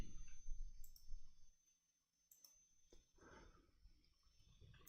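Quiet mouse clicks while entering a value in asset database software, a few sharp isolated taps scattered across a soft, low background with no voices.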